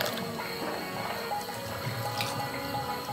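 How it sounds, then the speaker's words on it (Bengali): Tapioca pearls being washed in a bowl of water, with soft dripping, swishing and sloshing close by, steady and gentle throughout, with no talk over it. "এখন প্রয়োজন অনুসারে জল দিয়ে 3 থেকে 4 বার ভালোভাবে ধুয়ে নিচ্ছি।"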